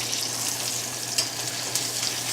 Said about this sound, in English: Searing them, searing them, searing them, searing them, searing them.